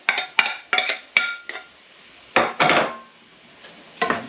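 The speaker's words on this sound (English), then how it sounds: "So we're going to add in the vegetables back in." Vegetables tipped back into a cooking pan for cheesy pork enchiladas, giving a series of sharp metallic clanks and scrapes of a utensil against the pan, several quick hits followed by a couple of louder bursts, close up with no talk.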